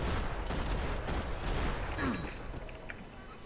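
Slow-motion bullet-time gunfire in Max Payne 3, several muffled, stretched shots in quick succession with a descending whine, fading over a few seconds while a voice talks over it.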